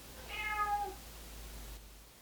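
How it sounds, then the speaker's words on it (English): A house cat lets out one loud, drawn-out meow in a quiet kitchen, followed by near silence. "My cat is screaming."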